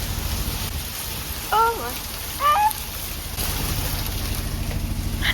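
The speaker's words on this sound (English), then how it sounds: "Why is it hailing so much?" Heavy hail falls outside in a dense steady hiss and patter that fills the whole stretch, while a voice briefly exclaims twice over it.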